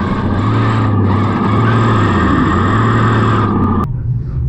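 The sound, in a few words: Traxxas TRX4 RC crawler with paddle tires driving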